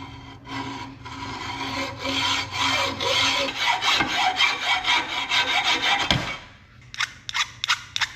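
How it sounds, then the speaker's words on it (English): A hand saw cuts through a metal part for a 1972 Allis Chalmers M65 road grader, a steady run of rasping back-and-forth strokes that ends in a few separate short strokes, close and loud. "Just need to mark this and cut off the extra length."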